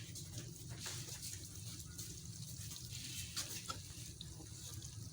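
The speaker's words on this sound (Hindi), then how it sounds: "तो अभी इसमें पानी ऐड करते हैं।" Water poured into a pan of roasting semolina for halwa gives a soft, continuous hiss and sizzle, quiet and steady throughout with faint kitchen background.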